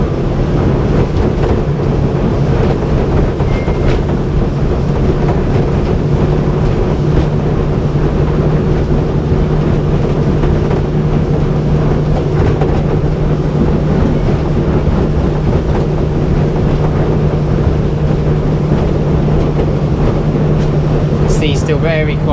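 2021 Axopar 28 Cabin MKIII boat with its engine being trimmed up to gain speed, a loud steady drone and low hum under constant wind and water rush, with a person talking over it.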